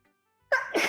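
A single sharp human sneeze bursts out close and loud after near silence, with a quick gasping intake just before the explosive release.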